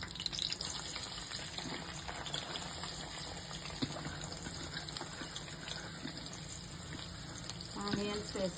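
Green chillies frying in hot oil in a kadai, a steady broadband sizzle and crackle running throughout at moderate, close level, with a few sharper pops and a slightly louder burst near the end.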